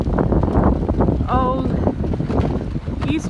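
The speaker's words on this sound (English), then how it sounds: "the wind is really starting to pick up" Strong wind from the east at about 15 knots buffets the microphone on Drummond Island with a constant loud roar, with pack ice blowing into the bay and a brief high whistling tone partway through.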